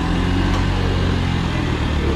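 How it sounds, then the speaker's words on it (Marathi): A car's engine runs with a steady, fairly loud mid-range rumble as the car is pulled forward outside Sangmeshwar railway station in the Konkan region, with no talking over it. "सागर लावतोय गाडी पुढे"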